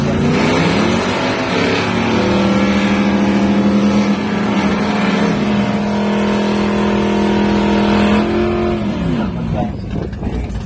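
Chevy Chevelle and Dodge 3100 drag racing in an elimination round, engines revving hard together with strong steady tones that climb and hold, then cut off sharply near the end, loud and close with a voice over the top.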